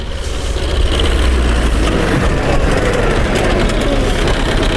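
A tractor drives and turns around nearby, its engine rumbling loud and continuous outdoors with a steady low drone throughout.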